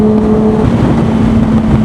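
Big motorcycles ride past on an expressway, a loud, steady engine drone with a sustained hum, close and continuous throughout.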